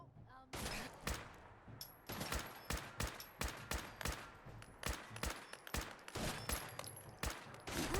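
Enemy gunfire in Fallout 4 rattles in rapid, closely spaced sharp shots, a sustained volley of cracks that keeps going with only short gaps.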